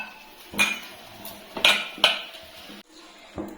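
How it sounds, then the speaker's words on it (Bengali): Batter being mixed in a bowl with a little water added bit by bit, heard as a few clinking strokes of a utensil against the dish, spaced out and fairly close, with no voices. "এখন অল্প অল্প জল দিয়ে একটা বেটারের মতন তৈরি করে না"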